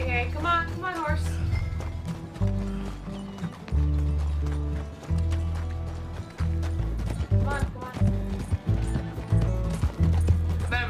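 Rhythmic hoofbeats of a galloping horse in Red Dead Redemption 2 clatter along under loud music, with a person talking over them.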